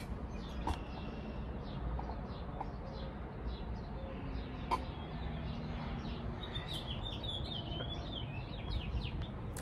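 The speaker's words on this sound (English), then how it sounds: "The birds are chirping." Birds chirp outdoors, scattered short tweets and calls at moderate distance over a soft steady ambient background.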